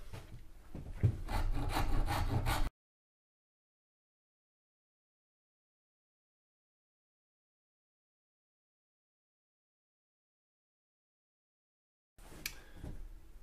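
Hand carving strips wood from a guitar neck heel in short rasping, scraping strokes, close and fairly quiet, with a long silent gap before the scraping briefly resumes.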